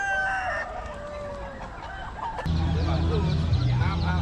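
Chickens clucking and crowing in baskets at a busy Bali market, a close rooster call rising over steady crowd murmur and market bustle, with voices talking nearby.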